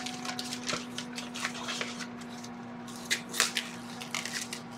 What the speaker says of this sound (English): I'm going to take the skirt steaks, and I'm going to put them in the bag